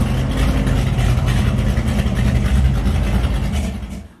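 A 1977 Dodge Van with a 318 small block Mopar V8 at a drag racing event, its engine roaring loud and close with steady, gritty revving that holds for about four seconds before dropping away at the end.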